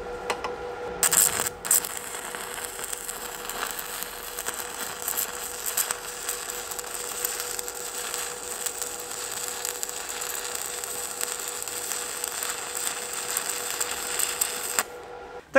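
A corner joint is arc welded with a 6013 electrode at slightly raised current, giving a steady, close crackling hiss that starts abruptly and holds for about thirteen seconds before cutting off.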